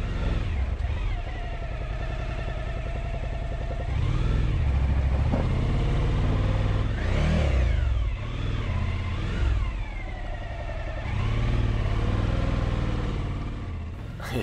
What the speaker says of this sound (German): Ja, da hilft nur eins, mit dezent durchdrehenden Reifen Meter für Meter nach oben schrauben.